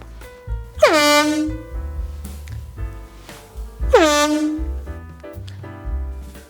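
Two loud blasts from an emergency hand pump air horn, each opening with a sharp rising blare that settles into a sustained, slightly wavering tone of about a second. The blasts are close and piercing.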